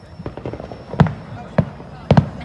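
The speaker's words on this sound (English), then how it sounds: "Right now we hear some fireworks noises from right here." Fireworks going off at a firework show, three or four sharp bangs at irregular intervals over a low background, with people talking faintly at a distance.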